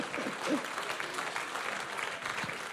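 A church congregation claps for Jesus in a steady, sustained wash of applause, moderately loud and filling the room, with faint voices mixed in underneath.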